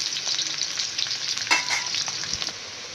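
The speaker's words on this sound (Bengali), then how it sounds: "কড়াইতে তেলে গরম করে আলুগুলোকে দিয়ে দিলাম। আলুগুলোকে ভালো করে ভেজে নেব।" Potatoes frying in hot oil in a kadai, a continuous loud sizzle with a brief stirring scrape midway, no voices.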